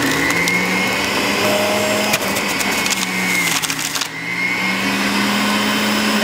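A juicer grinds a peeled homegrown lemon with a steady, loud whirring drone and crunching, splintering texture, briefly dipping midway before resuming its continuous motor hum.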